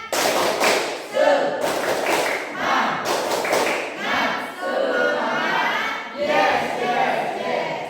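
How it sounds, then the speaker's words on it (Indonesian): Schoolchildren in a classroom perform the tepuk semangat clapping chant, bursts of group clapping alternating with loud shouted chanting voices, energetic and close. "Tepuk semangat."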